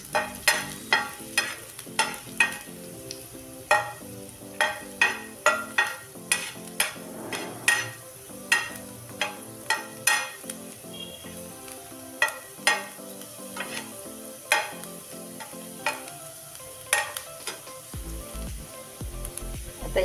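Ginger stir-fried in a home kitchen pan for momo filling: steady sizzling with repeated sharp scraping and tapping strokes of a spatula against the pan, alone with no talking.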